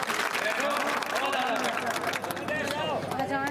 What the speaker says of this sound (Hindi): एक बार ताली बजा दो दादा।